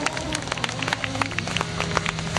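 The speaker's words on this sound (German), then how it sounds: "Gratulation, das kriegt er seinen Applaus" A crowd applauds a driver at an autocross race, the 2009 German championship round at Seelow, with dense, steady clapping that patters like rain throughout, and a faint voice underneath.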